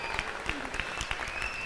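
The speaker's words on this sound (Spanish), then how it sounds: "Un fuerte aplauso, por favor." Applause from a studio audience on a televised singing competition show as a nominated contestant steps forward, fairly soft and steady with scattered claps, no talk over it.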